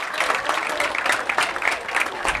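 A packed homecoming crowd at a high school football game claps and cheers at halftime, a steady, loud wash of applause from the stands.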